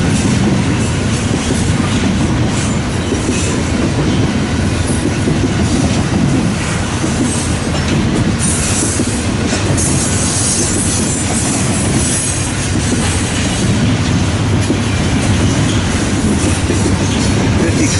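A long freight train carrying stacked containers rolls past close by, with a mid-train DPU locomotive in the consist, giving a continuous loud rumble of wheels with clattering joints and intermittent squealing throughout.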